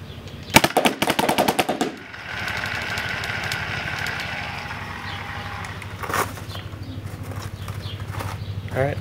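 A Planet Eclipse Ego LV1 paintball marker fires a rapid, loud burst of shots at a box outdoors, then a steady mechanical hum continues with another short burst near the end.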